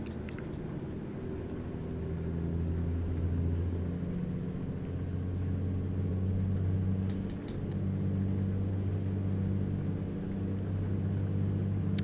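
A 515-horsepower heavy-haul truck in American Truck Simulator drones steadily, holding around 2,000 rpm as it climbs through the gears, a continuous low engine rumble with slight swells and no talk.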